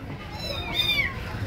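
A kitten meows faintly and thinly in a quiet home, with a soft hiss of room noise and no talking.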